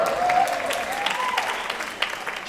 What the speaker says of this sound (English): a round of applause for Carrie.